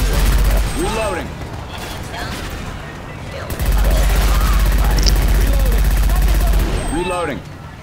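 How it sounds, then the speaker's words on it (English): Rapid gunfire and mechanical reload clatter in the video game Diescraper, loud and continuous, with a voice speaking over the shooting. "Reloading."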